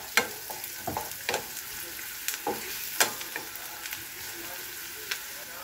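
Spicy chicken with pineapple juice cooks in a pan, giving a soft continuous sizzle and hiss broken by repeated sharp clicks and scrapes of stirring, fairly quiet and close.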